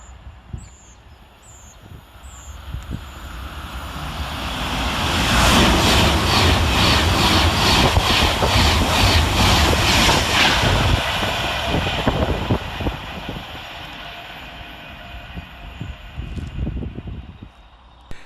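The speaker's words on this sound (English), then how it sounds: "Next racing its way through the station is 390-107, working 9 Mike 54 for Avanti West Coast from Edinburgh Waverley to London Euston" Avanti West Coast Class 390 electric train 390-107 races through Lockerbie station, its roar swelling from a distance to a loud rushing peak mid-clip and then fading away, with a few birds chirping early on.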